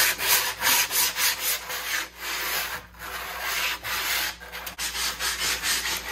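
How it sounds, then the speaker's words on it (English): Sandpaper rubbed by hand over a taxidermy deer form, steady rhythmic scratchy strokes that sound close and loud, with no voices. "get some sandpaper and just get out all the bumps and ridges and rough it down a little bit"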